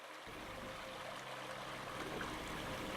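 A small stream, the Rau de Solières, flows through quiet woodland with a steady, even rush of water, close and continuous with no voices.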